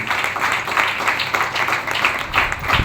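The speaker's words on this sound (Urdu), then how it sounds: "زوردار تالیاں اپنے پاک خدا کے جلال کی" A church congregation applauds during a Mother's Day sermon, with steady dense clapping from many hands that fills the room at moderate volume and no clear talk.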